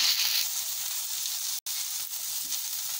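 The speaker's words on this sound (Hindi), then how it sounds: "ये तीन मिनट से मैंने भिंडी को भी फ्राई किया" Okra frying in a pan on a medium-high flame with a spoonful of soy sauce added, giving a steady, close sizzle that continues throughout with one brief dropout.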